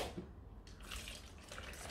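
Water pours and splashes steadily as cooked green beans are drained in a colander, a continuous close, moderately loud rush with no talk.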